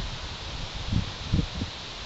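Gusty wind rumbles across the microphone in low buffeting bursts, with a soft rustling texture throughout and no voices.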